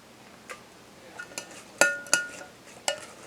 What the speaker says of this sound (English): I'm going to put these in my blender.